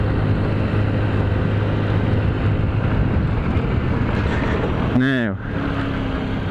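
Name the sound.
Honda Zoomer scooter riding, engine running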